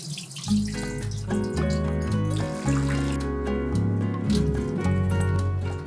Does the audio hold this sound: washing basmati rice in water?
yes